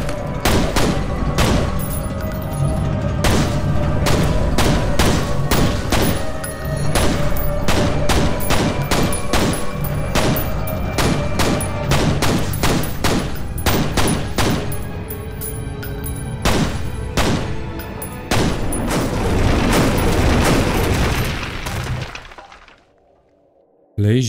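Dense gunfire in the video game F.E.A.R., rapid loud bursts of shots mixed with shattering glass and breaking debris, nearly continuous for about twenty seconds before abruptly dropping off.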